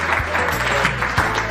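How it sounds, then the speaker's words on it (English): An audience applauds a consultant doctor at a health workers' event in Nigeria, a brief, steady, moderately loud patter of clapping. "a round of applause for him"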